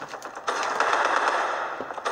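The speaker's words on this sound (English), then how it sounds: "Trying to shoot some people." Rapid automatic gunfire crackles in Black Ops 3 multiplayer, a dense continuous burst lasting about two seconds.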